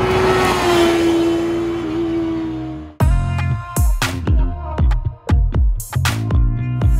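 Kawasaki motorcycle engine grafted into the trunk of a Nissan Leaf, first a rising high-pitched whine, then sharp repeated blips of revving with crackling bursts, loud and close.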